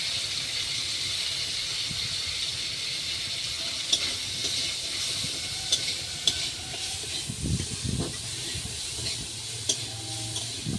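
Chicken seasoned with salt and pepper frying in a little oil in a pan, a steady close sizzle with scattered stirring scrapes and light spatters, no talking.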